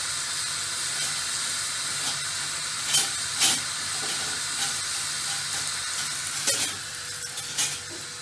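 Curry goat frying in a pot, with a steady sizzling hiss and a few scattered scrapes and knocks as the meat is turned, no talk.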